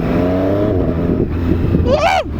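Triumph Street Triple RS motorcycle with a quick shifter accelerating hard, a loud close engine note climbing through the revs, then a rapid upshift and a rising whine before it cuts off.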